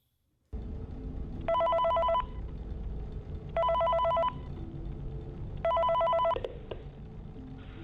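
A telephone in the Five Nights at Freddy's video game rings in three repeated electronic bursts over a low, steady background drone.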